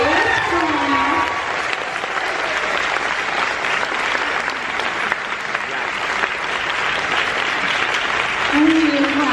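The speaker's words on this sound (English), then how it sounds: "Let's just clap them on onto the stage." An audience at a book festival applauding steadily as a panel of authors walks onto the stage, a dense even roar of clapping that holds for the whole stretch, with faint voices beneath.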